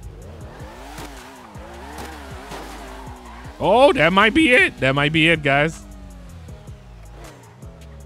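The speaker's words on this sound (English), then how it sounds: "You can hear that built engine, too." A built car engine in the video game GTA 5 revs hard and loud in the middle of the clip, with rising and falling pulls and a tire squeal, while someone talks over the quieter engine drone before and after.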